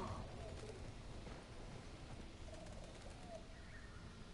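Birds scatter and fly off in The Last of Us video game, with faint pigeon-like cooing and chirps over a steady wash of ambient game noise.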